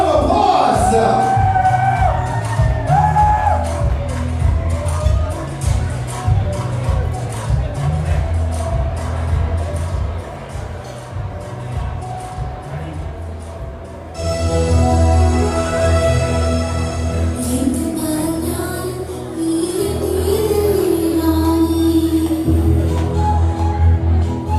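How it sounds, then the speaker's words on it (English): Wedding reception guests cheer, whoop and applaud for the mother and son slow dance, a loud crowd swell that carries on under an announcer's voice and music. "can we make some noise and give them a big round of applause?"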